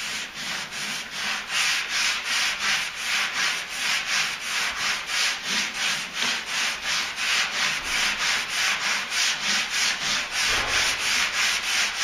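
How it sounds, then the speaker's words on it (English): A sanding block with 180-grit paper rubs back and forth over a dent in a GMC Sierra truck tailgate in a steady rhythm, about two strokes per second, a close, scratchy abrasive sound with no talking. "is just cross sanding over that"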